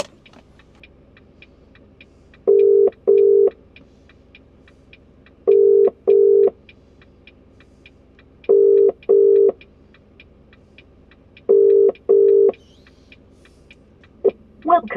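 A UK double-ring telephone ringback tone on an unanswered mobile call, heard from inside an HGV cab, repeating four times in evenly spaced paired bursts with quiet ticking between.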